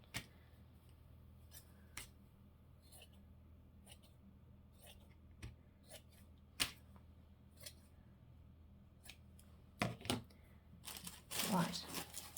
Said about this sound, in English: Let's go for the big scissors.